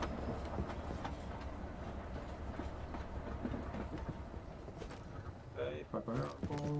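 In the video game Voidtrain, a moving train makes a steady rumbling, clattering drone throughout, with brief louder tonal game sounds near the end.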